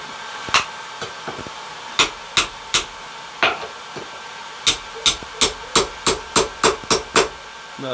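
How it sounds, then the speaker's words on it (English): A 2-pound hammer strikes heated forged metal being straightened for a grappling hook, ringing out in a dozen sharp, loud blows, first spaced apart and then in a steady rapid rhythm, close up with no talk. "I'm going to use my 2-pound hammer here"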